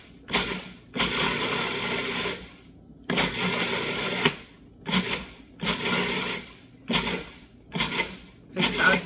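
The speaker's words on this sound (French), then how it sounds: "broyer la graine de lin en poudre. On y va par pulsion." Kitchen blender grinding flax seeds into powder in short repeated pulses, each burst a loud whirring roar lasting about a second before cutting off, with brief pauses between.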